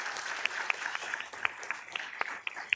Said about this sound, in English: And if we can once again give them a round of applause.